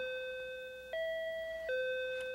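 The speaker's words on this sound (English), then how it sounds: "we'll show them the eLife version of a doorbell" An eLife intercom doorbell ringing, a clean electronic tone that changes pitch in three steady steps, then ends faintly, with no voices.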